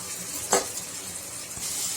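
Ginger garlic paste hitting hot oil with golden onions in a pan for mutton biryani, giving a soft steady sizzle with a brief louder burst and a light stir partway through.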